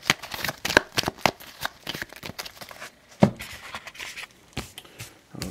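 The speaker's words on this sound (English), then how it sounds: "Shuffle it since we messed it up." A deck of playing cards is shuffled by hand during a tabletop card game, with crisp, repeated riffling bursts and flicks in an irregular rhythm, close and fairly loud.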